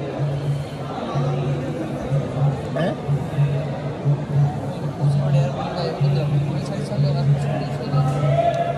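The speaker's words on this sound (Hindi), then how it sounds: "गेट खुलने से पहले बहुत ज़्यादा भीड़ लगी है पीछे" A crowd waits outside a Radha Krishna temple before the gate opens, filling the air with steady overlapping chatter and murmuring at moderate distance. A nearby voice speaks over the babble.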